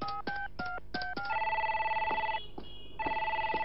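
A mobile phone rings in an animated comedy scene, a sharp electronic ringtone of repeated bright chirps followed by sustained warbling tones with a brief gap, loud and close with no talk.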